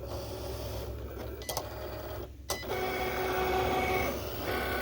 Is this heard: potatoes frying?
no